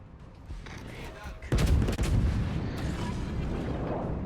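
In World of Warships, the battleship Tirpitz fires its guns at the Bismarck: a sudden heavy boom breaks out of a low ambient rumble, followed by a sustained rolling roar, with faint voices underneath.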